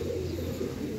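Pigeons or doves cooing in a low, steady throaty hum, close by and fairly soft, with no talking.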